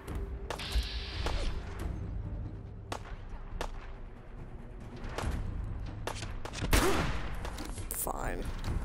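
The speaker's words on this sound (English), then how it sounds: "Who's shooting me?" Gunfire in Fallout 4, sharp cracking shots scattered irregularly among thumps and bursts across nearly nine seconds, loud and close, with a voice talking at times underneath.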